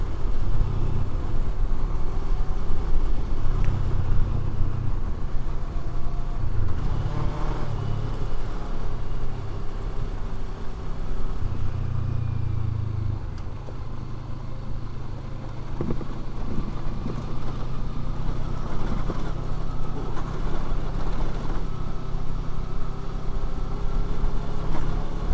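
A first-generation Kawasaki Versys 650 motorcycle rides over gravel, its engine droning steadily and close throughout, with heavy wind rush buffeting the microphone and a low rumbling, gritty texture underneath, and no talking.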